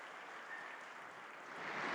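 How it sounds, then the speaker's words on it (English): Audience applause in a large hall at the Future Investment Initiative conference in Riyadh, a steady wash of clapping that holds level and swells slightly toward the end, heard fairly faint and distant. "Please, I think we deserve a round of applause here."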